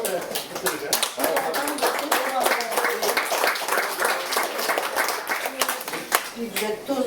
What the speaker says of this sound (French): Alors, on applaudit tous mes invités d'honneur